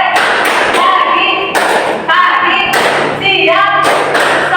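Group rhythmic clapping game called tepuk, with a room of people striking claps in short, counted bursts separated by brief pauses while voices chant along.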